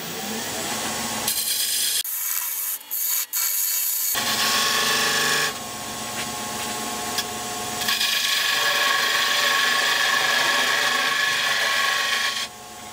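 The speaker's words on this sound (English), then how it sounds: "I'll just use my skew chisel and part that, just take it down nice and even to that" A skew chisel parts wood on a lathe, a continuous scraping and cutting whir that shifts in texture and loudness as the tool bites deeper, with brief drops where contact eases.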